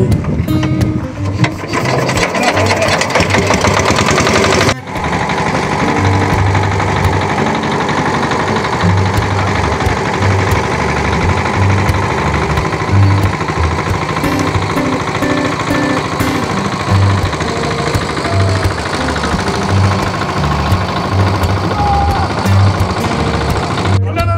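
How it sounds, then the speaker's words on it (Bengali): A river boat's engine runs loudly and continuously after being started, a rough, throbbing mechanical drone that stays steady and close throughout. "এখন নৌকার মাঝি নিজে স্টার্ট দিতেছে"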